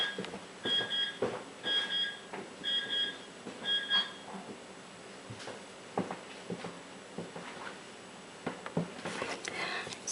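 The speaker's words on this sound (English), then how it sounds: "oh, that's the alarm clock" An alarm clock beeps in four short repeated bursts of high-pitched tones during the first few seconds, fairly close, then stops, followed by scattered rustling and tapping sounds.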